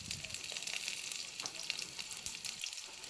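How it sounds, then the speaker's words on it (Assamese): Green chillies and garlic frying in hot oil, with a steady, fairly quiet sizzle and crackle throughout and small pops scattered on top, with no voices. "ইয়াতে দুটা কেঁচা জলকীয়া তেলতে দিম।"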